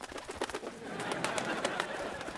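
A pigeon or dove coos repeatedly in soft, rhythmic pulses over a dense, hissy background, moderately close and steady throughout.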